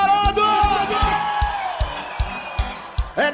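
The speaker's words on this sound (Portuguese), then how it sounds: "E o grito dos colorados!" A festival crowd of Internacional fans lets out a long, sustained shout at the Oktoberfest in Igrejinha, Rio Grande do Sul, fading as a live band's regular thumping beat carries on, then a short yell at the end.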